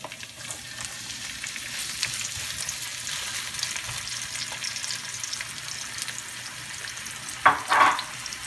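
Onion fries in a pan with a soft, continuous sizzle, faint and steady, with a brief louder scrape or clatter near the end.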